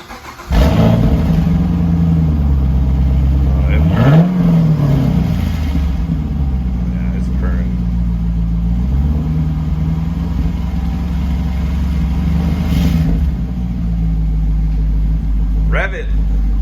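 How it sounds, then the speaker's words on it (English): A 2011 Camaro SS V8 with a Solo Performance Mach-XL exhaust starts up and settles into a deep, loud idle, with a couple of brief blips, and a person talks over it. "new Solo Performance Mach-XL exhaust installed."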